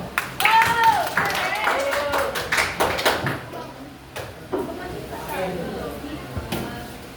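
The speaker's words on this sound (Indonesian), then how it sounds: "Tepuk tangan dulu." Students in a seventh-grade class clap in a scattered burst of applause that tapers off, mixed with light tapping and room noise.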